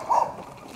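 A dog at the checkpoint of a former tank battalion site in Jüterbog gives one short, high yip or bark against faint outdoor background noise.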